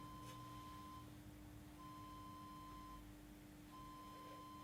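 Very faint, steady electronic beeping from a microwave receiver picking up a weak signal sent across a desk, tones repeating in long even pulses with short gaps over a quiet hum.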